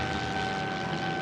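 Propeller airplane engine in a nosedive toward the ground, a steady dense drone with a faint sustained tonal whine, constant and close throughout the short stretch.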